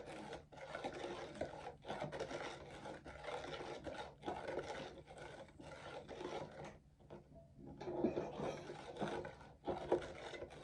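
Liquid glycerin dish soap being gently stirred with baking soda, a steady soft scraping and rubbing that runs almost continuously, with a few brief pauses.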